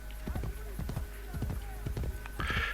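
Horse hooves clip-clopping in the video game Assassin's Creed Brotherhood, a steady run of close, regular hoof beats over low background music, with a brief brighter burst near the end.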